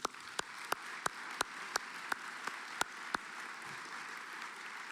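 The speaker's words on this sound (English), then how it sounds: "How about a round of applause for them?" At a hall of fame induction ceremony banquet, a small audience gives the catering staff quiet, scattered applause, with a few sharp distinct claps standing out over a soft, sparse background of hands.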